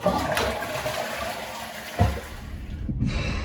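A newly fitted replacement toilet flushing nearby, a loud rushing gush of water with a brief surge midway, then trailing off into the quieter sound of the cistern refilling.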